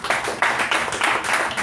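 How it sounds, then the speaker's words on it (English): A small audience at a Toastmasters club installation ceremony claps in a quick, uneven patter of hand claps that rises in short bursts, close and fairly loud, with no voices over it. "Withhold the applause till the end"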